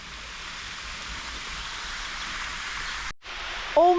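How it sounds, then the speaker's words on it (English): A small waterfall in a canal system spills water down a hill with a steady, even hiss of falling water that briefly cuts out near the end, followed by a faint tonal squeak. "It's part of a canal system, and it's just how the water drops down the hill"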